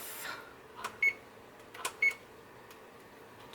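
A kitchen oven timer gives two short electronic beeps about a second apart, quiet and alone, with faint handling clicks just before each one.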